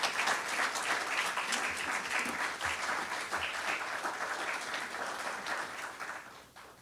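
An audience applauds visiting parliamentarians at an international conference, a full, sustained round of clapping that holds steady for several seconds and then fades toward the end.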